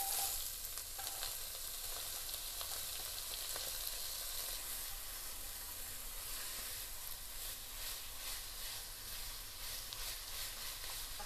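Carrots and onions sauté in hot bacon grease, making a loud, continuous close-up sizzle and hiss that holds steady throughout with no voices over it.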